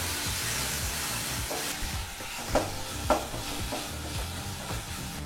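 Finely chopped tomato fries in a hot pan with a constant sizzling hiss, broken by a couple of sharper spoon scrapes and stirs, close and steady, with no one talking.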